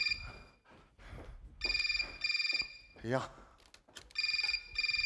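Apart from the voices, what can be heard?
phone ringing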